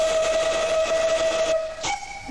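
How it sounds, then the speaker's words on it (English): A pair of Great Western Castle steam locomotive whistles sounds together in one loud, steady tone for about a second and a half, then a brief second blast follows after a short gap. "number four has a pair of Great Western Castle"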